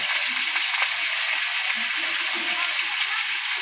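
Spinach and cabbage vegetables frying in a pan with salt and turmeric, a steady close sizzle with faint stirring scrapes and brief bits of background voice.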